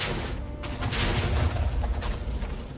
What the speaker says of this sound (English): I guess that explosion did us some good